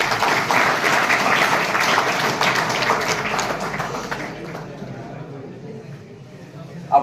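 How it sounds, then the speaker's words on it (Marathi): Audience claps at a felicitation ceremony honoring successful students, a steady, moderately loud round of applause that gradually thins and fades over several seconds. "टाळ्या वाजवा ना."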